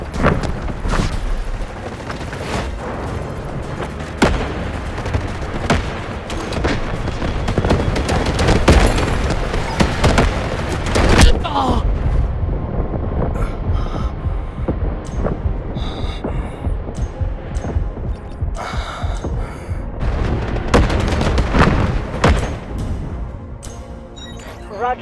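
Artillery barrage in the Delta Force 24v24 Warfare attack-and-defend battle on the Cracked map: a dense, continuous roll of booms and blasts with sharp impact transients, loud throughout, mixed with game chatter over the radio.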